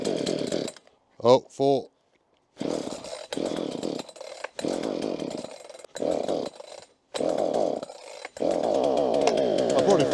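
A chainsaw is pull-started with the brake on and the choke then switched off, giving several short bursts of sputtering engine and cord pulls separated by gaps, with someone speaking nearby.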